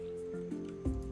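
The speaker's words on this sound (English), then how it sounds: "I assume that I have to water it now." Crops watered in the farming video game Roots of Pacha, with a brief soft splash of water over sustained game music tones.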